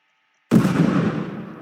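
A ground slam attack in the Roblox game Ro-Ghoul lands as a single sudden boom after brief silence, followed by a rumbling, decaying burst.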